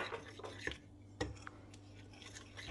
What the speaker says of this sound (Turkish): 1 su bardağı unu iyice karıştıracağım önce